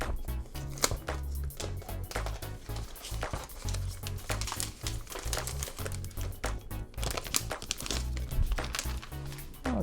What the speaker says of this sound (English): Let's go ahead and peel this off.